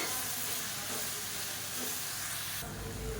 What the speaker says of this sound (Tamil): இந்த இலை வந்து சுருங்குற அளவுக்கு வதக்கினா போதும்